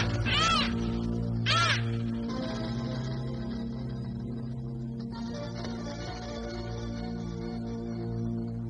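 A parrot in a fantasy TV drama gives two sharp, harsh squawks in quick succession near the start, then a steady musical background carries on.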